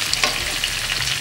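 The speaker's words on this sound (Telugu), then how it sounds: "మీడియం ఫ్లేమ్లో బాగా ఫ్రై అవ్వనివ్వండి" Bitter gourd pieces fry in oil on a medium flame, giving a steady close sizzle with a few brief stirring scrapes and no voices.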